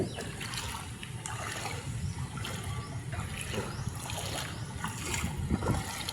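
A boat moves along a river, with soft water trickling and splashing over a low rumbling hull and engine drone, faint and continuous with scattered small splashes.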